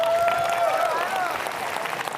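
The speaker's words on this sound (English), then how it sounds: "Give her a round of applause." An audience at the Graph Day 2022 conference breaks into a dense wash of applause, with a few whistling tones on top, loud and close for a couple of seconds.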